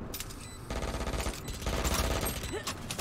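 Stinger submachine gun bursts in the game Valorant, rapid automatic fire in dense stretches mixed with other game effects and a voice, loud and continuous.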